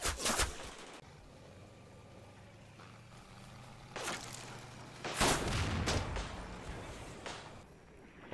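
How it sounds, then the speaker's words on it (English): Artillery shells striking and destroying a Marder 2 tank in the video game Combat Mission Fortress Italy, a sharp opening blast, a quieter lull, then a heavier cluster of booming impacts and rumble fading out. "Artillery destroys the second Marder 2 that was spotted."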